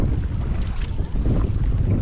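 A paddle board fitted with a cheap homemade sail glides across open water, giving a steady rush of wind buffeting the microphone over low water wash, with no voices.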